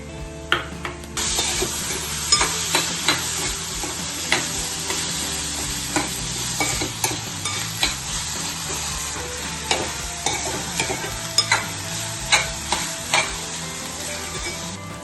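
Finely chopped tomato sizzles and fries in a hot pan for a dhaba-style whole masoor dal, with steady loud frying under repeated scrapes and stirs of a spoon against the pan, no talk.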